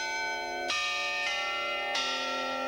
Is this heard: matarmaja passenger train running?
no